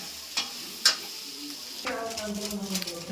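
Onions deep frying in oil in a pan for mutton pepper fry: a steady close sizzle with a couple of sharp stirring clanks early on, then a denser crackle as frying picks up.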